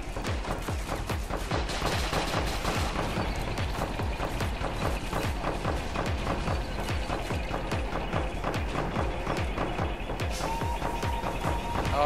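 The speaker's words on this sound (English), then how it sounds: "All the tanks here are fighting a machine gun nest, interestingly enough." Tanks battle a machine gun nest in an army men war game, with a continuous rapid rattle of machine-gun fire and mechanical clatter running steadily and loudly throughout.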